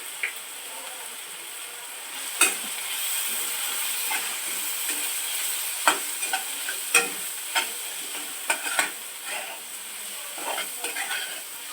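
Spices with chili powder and garam masala sautéing in a pan, a continuous soft sizzle and hiss punctuated by sharp scraping taps of a spatula stirring against the metal.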